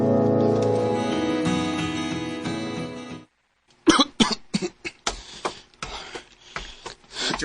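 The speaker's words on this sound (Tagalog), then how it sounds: "Ang iba na yung ubo mo, Hindi na normal nga ubo yan." A person coughs repeatedly in a string of sharp, separate bursts after music fades out and a brief silence falls, the coughs close and loud with short gaps between them.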